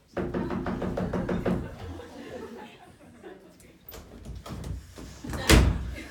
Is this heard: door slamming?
yes